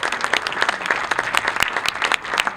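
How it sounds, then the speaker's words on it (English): Crowd applauding at a grasstrack race prize-giving outdoors, a short burst of scattered, fairly close clapping from a modest gathering. "Quick round of applause for Jamie Rodgers."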